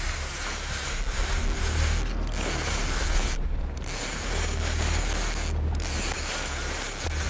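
Continuous grinding whir of a saltwater fishing reel's drag as a large shark peels off line, steady and close with a few brief dips.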